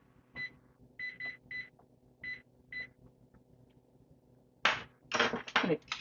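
A kitchen timer beeps in short bursts, a few quick electronic chirps in an irregular pattern, followed by louder clattering kitchen noise near the end, while baking homemade dog treats.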